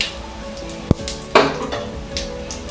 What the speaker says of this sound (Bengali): 2 মিনিটের মতো আমি ভেজে নেব।